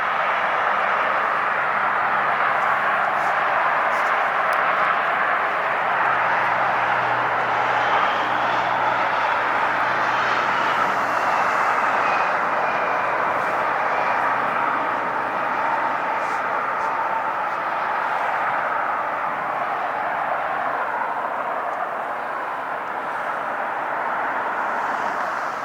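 A heavy jet takes off at LAX airport with a loud, sustained roar that swells and then slowly fades as it climbs away. No one speaks over the steady engine noise.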